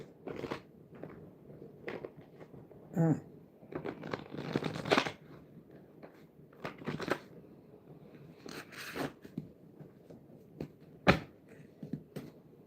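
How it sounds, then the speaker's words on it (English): Close, quiet papery riffling and soft slaps of tarot cards being shuffled in irregular bursts, with no voices. "Let's give it a good shuffle here."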